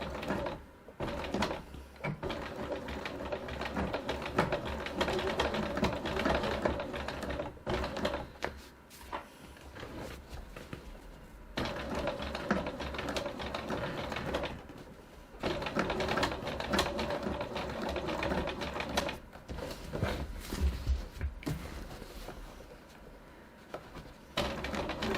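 Sewing machine top stitching a bag a quarter inch from the edge at 3.1 stitch length with heavy thread, running in loud steady bursts with brief pauses between runs.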